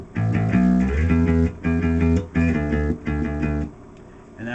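A bass guitar plays the riff from a song, with a sliding line and repeated low notes in a steady driving rhythm, loud and close with no talk over it.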